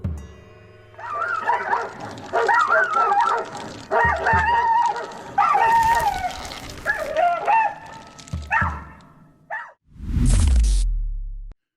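Several dogs out on a road yip, whine and bark in rapid, excited bursts, close and fairly loud, ending with a heavy rumbling thump near the end.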